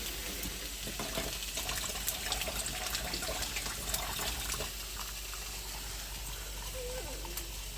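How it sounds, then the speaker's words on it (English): Water is poured into grits in a kitchen, a soft continuous trickle and splash at low volume, with faint clinks and background noise. "So I'm just going to add some water."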